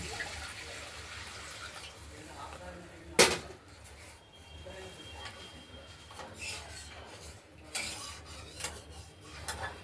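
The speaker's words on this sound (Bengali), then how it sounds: "এবার আমরা জল দিয়ে দেবো।" Water is poured onto cooked-down spice masala in a pan for a paneer curry with potato and tomato, a low running wash of liquid broken by one sharp metallic clank and faint utensil scraping.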